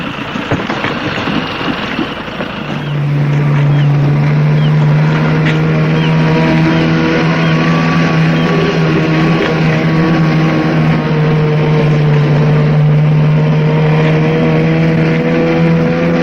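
A motor dinghy's outboard engine drones steadily on the water, close and loud, settling into a sustained hum after a rougher start.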